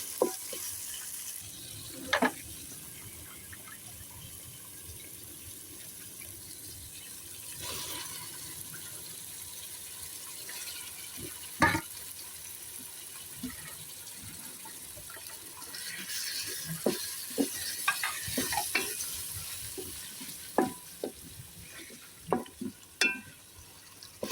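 Chopped tomato frying in oil for Andhra-style chicken gongura curry, a soft continuous sizzle broken by scattered scraping and stirring clinks of a spoon in the pan.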